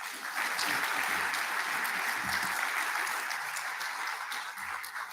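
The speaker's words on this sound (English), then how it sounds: "Let's give him one more round of applause" An audience applauding after a keynote at a clean heavy-duty vehicle summit, a full, sustained round of clapping from many hands that holds steady and fades slightly at the end.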